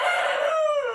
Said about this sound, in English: I only ever hear the one cackle a little bit